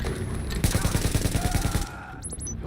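Rapid automatic gunfire in The Division video game, a fast, even burst of loud shots lasting over a second, followed by quieter battle ambience and a few high electronic chirps.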